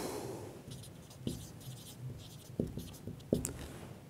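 A pen or pencil writes mathematical equations by hand on paper in a quiet room. Soft, close scratching strokes are broken by a few sharper taps as the pen touches down.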